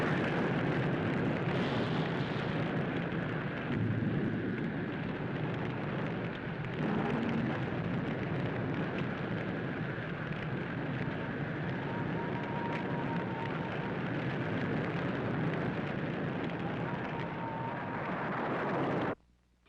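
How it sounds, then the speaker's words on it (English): A forest fire roars in a public service announcement, a loud, dense and continuous rumbling rush that holds steady for about twenty seconds and then cuts off abruptly. "This is what a forest fire looks like through an animal's eyes."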